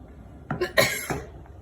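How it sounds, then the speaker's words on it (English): A single quick sneeze, close and fairly loud, with a short inhale before the burst and a brief trailing exhale. "I sneezed."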